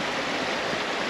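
A river flowing beside a muddy countryside walking path near Pendle Hill, a steady broadband rush of moving water, close and continuous with no voices.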